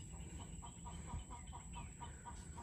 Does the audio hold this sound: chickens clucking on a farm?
yes